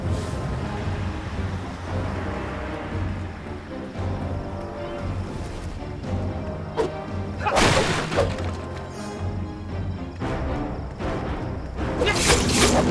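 Cannon fire from a ship battle against an enemy flagship in the video game Sacred 3: broadband booming crashes, one around the middle and another near the end, over a steady layer of game music and effects.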